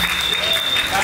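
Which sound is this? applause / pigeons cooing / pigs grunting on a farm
applause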